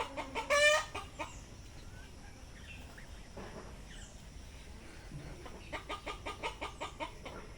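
A rooster gives a loud, sharp alarm call at a nearby cat near the start, followed by a series of rhythmic clucks and cackles from fowl later on, over steady outdoor background noise.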